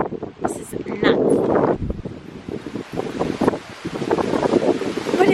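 Strong gusting wind buffets the microphone during a hurricane, roaring steadily with surging rushes, broadband and close, while cyclists ride through a nearly empty park and a voice briefly speaks over the din.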